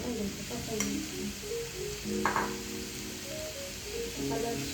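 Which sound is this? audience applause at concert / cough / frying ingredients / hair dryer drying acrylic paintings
frying ingredients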